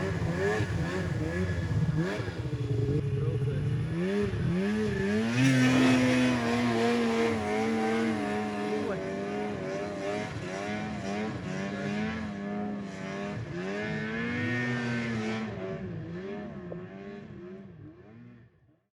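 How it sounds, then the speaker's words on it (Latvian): Snowmobile ridden by local Norwegians beyond the Arctic Circle, its engine droning and revving up and down steadily nearby, then fading away toward the end. "Blakus esošajā motoklubā vietējie norvēģi izlēmuši izlaist līkumu ar sniega moci."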